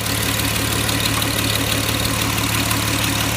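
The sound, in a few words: 1932 Oldsmobile engine started and idling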